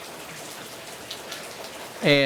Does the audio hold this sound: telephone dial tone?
no